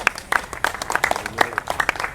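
A church congregation at a New Year service under a bridge applauding and cheering for God, a brief burst of lively scattered clapping close by.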